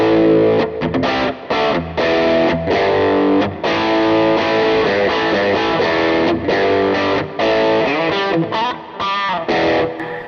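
Electric guitar played through a Jackson Audio Golden Boy overdrive pedal, giving loud, saturated chords and riffs with sustained distorted notes and brief gaps between phrases.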